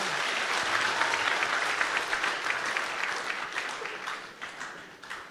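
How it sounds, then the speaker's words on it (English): A congregation claps for the Lord at a South Pacific Bible College 2025 service, a steady, moderately distant wash of many hands that slowly fades toward the end. "So let's give another big hand clap to the Lord."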